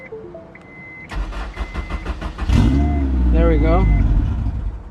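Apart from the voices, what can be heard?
Honda S2000 engine starting and revving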